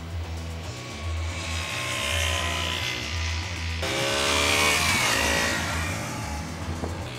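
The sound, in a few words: KTM 125 Duke 125cc motorcycle engine while riding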